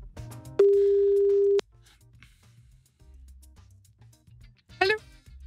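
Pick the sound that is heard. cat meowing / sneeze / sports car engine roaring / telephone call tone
telephone call tone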